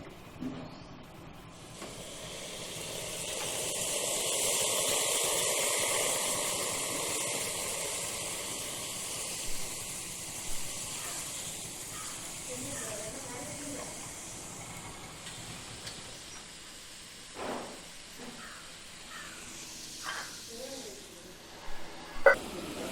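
Liquid poured into a very hot cooking vessel, a loud hiss that swells over several seconds and then slowly fades, followed by scattered small clinks and knocks.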